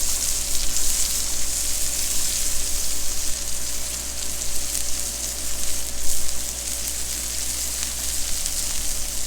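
Sliced jalapenos sizzle and fry on a Blackstone griddle beside bacon and mushrooms for loaded burgers, a steady loud hiss and crackle throughout with no talking.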